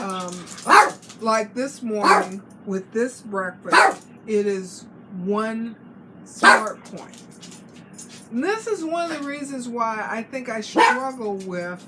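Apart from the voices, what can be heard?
pet dog barking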